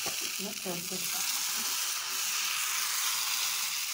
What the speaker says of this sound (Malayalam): അപ്പച്ചട്ടിയിലേക്ക് നമുക്ക് മാവ് ഒഴിക്കാം.